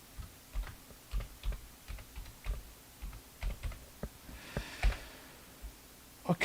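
Rapid, uneven clicking of computer keyboard keys and mouse clicks, close and fairly quiet, with brief pauses between bursts and no speech.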